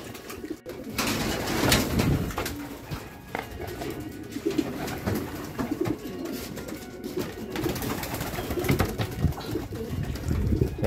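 Racing pigeons coo steadily in a loft, a low continuous warbling chorus from several birds close by, with faint rustling and a few sharp knocks among them.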